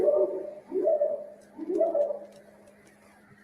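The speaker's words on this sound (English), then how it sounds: "That sounds like an owl or something." Low, hooting coos repeat three times in a slow rhythm, soft and somewhat muffled over a faint steady hum.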